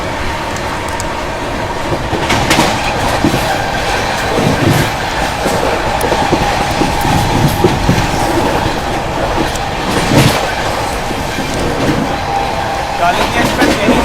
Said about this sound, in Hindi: कालिंदी एक्सप्रेस यहीं से निकल जाती है